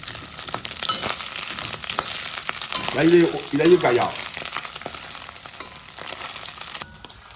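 Rougail 3 cousins, a sausage dish, frying in a pan with a steady sizzle running throughout, while someone talks over it in French.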